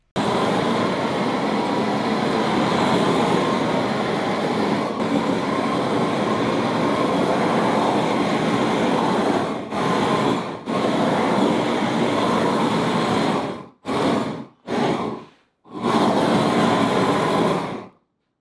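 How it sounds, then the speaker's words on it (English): A loud, steady roaring hiss from a torch charring wood, a harsh broadband rush running continuously and then cutting off abruptly several times near the end. "One note, the torch is loud."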